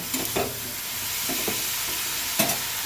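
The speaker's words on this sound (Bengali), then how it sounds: "এবার আমি মশলাটা দিয়ে একটু নেড়ে নেব কষিয়ে নেব" Ground spices fry with bottle gourd in a pan, a dense, close sizzle broken by a few quick stirring scrapes.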